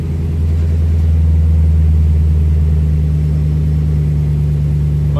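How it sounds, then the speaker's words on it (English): A 2017 Ram 1500 pickup engine idles with a steady, loud low rumble, constant and close, with no voices. "I'm going to let it idle for just a few minutes."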